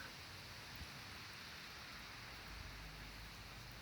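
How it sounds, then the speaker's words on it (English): Heavy rain pours steadily outdoors during a calisthenics workout at a pull-up bar, a dense, even hiss throughout with no talking. "The rain's kind of turned down."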